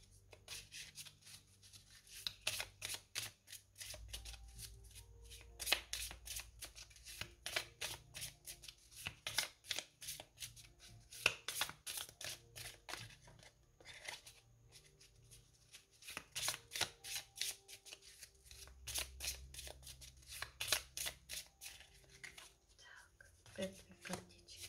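Oracle cards are shuffled by hand in a long series of quick papery riffles and rubbing swishes, close and soft, with a quiet voice murmuring beneath.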